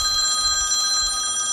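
A mobile phone rings with an incoming call, a continuous electronic ringtone with steady high tones, loud and close, with no speech over it.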